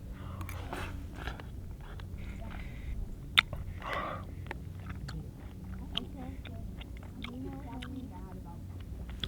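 A person on a hike along the Appalachian Trail chews orange pieces eaten with a fork, making soft, close, wet crunches and bites amid quiet outdoor background and faint murmuring.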